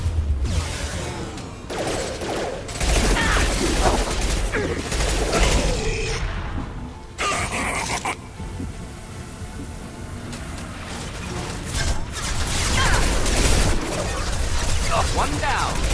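Gunfire from the video game Mass Effect 2 crackles in repeated bursts and volleys, mixed with booms and mechanical clatter, loud and continuous across the scene.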